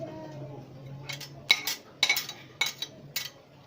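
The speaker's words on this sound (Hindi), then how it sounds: "और इसको अच्छे तरीके से मिक्स करेंगे" A spoon mixes Maggi noodles with macaroni, onion and green chillies in a pan. It gives a few sharp metallic clinks and scrapes against the cookware, close by and alone, with a faint low hum underneath.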